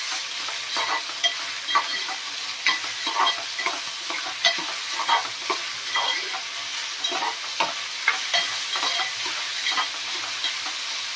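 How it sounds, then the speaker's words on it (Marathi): Onion sizzles in hot oil in a pan, a constant bright frying hiss broken by regular scraping taps of a spatula stirring, close and steady for about eleven seconds. "इथे कांदा शिजतोय"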